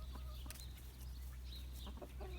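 Farm hens cluck faintly and intermittently at a distance, including an old red hen, over a constant low hum of background noise.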